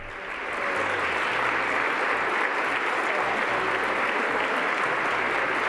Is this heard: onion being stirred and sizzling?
no